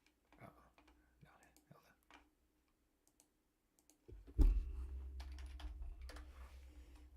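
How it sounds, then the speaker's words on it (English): Computer keyboard typing during a live poker tournament stream: soft, quiet keystroke clicks and ticks in short bursts over a near-silent background, then a louder low rumble that takes over near the end. "I'm gonna start typing away here"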